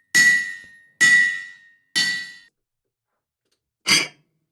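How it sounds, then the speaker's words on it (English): Four sharp hammer strikes on wood and metal, taken from a medieval sound library. Three evenly spaced blows carry a bright metallic ring, then a pause before a fourth, drier knock. All are close and heard alone. "Hammer on wood and metal, and they have some loops of those as well."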